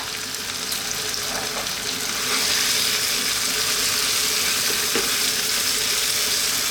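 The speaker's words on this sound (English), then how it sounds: "we're going to let this cook now just for about 2 minutes. Keep it stirring all the time" A creamy chicken and bacon pasta sauce with grated parmesan bubbles and sizzles steadily in a pan, a broad continuous frying hiss that swells midway, with faint scrapes of stirring and no voices.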